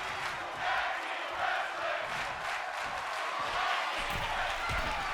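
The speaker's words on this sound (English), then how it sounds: "The crowd chanting tag team wrestling" A WWE 2K22 video game arena crowd chants in rhythmic waves during a tag team wrestling match, a broad roaring swell that stays steady and loud, with no talk over it.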